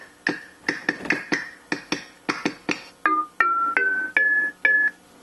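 A homemade percussion instrument made of bottles struck in a quick series of sharp hits, then several ringing pitched tones that step upward, each hit clear and close with no talking.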